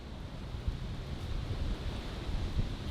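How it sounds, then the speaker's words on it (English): Strong wind gusting outdoors during a storm, buffeting the microphone with a low, continuous rumbling roar that swells and dips irregularly, with no voices. "it is extremely windy"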